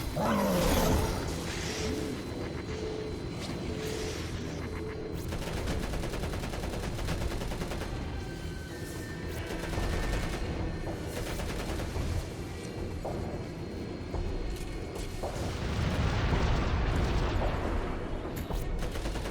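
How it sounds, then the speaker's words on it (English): Constant rumbling explosions and rapid gunfire fill a battle in the Xbox 360 game Crackdown 2, loud and dense throughout, with heavier blasts swelling at the start and near the end. "They went a little overboard on the explosions in this game."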